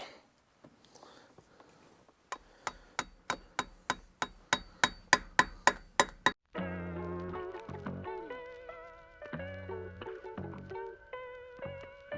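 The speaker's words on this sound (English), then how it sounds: "a screwdriver and just hammer it in half, basically" A run of about a dozen sharp metal-on-metal hammer blows striking a screwdriver in quick, even rhythm to split a wooden dowel, followed by clattering and scraping of wood pieces.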